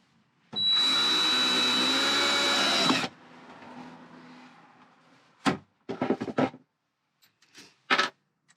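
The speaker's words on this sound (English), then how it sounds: "I do like to pre-drill" A power drill pre-drills guide holes in wood during a van renovation, one loud sustained whir of about two and a half seconds, followed by fainter shorter bursts and clatter nearby.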